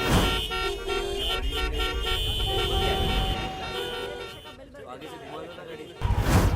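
Car horns toot repeatedly amid loud heavy traffic, with continuous engine rumble and overlapping honks, a voice speaking over the din.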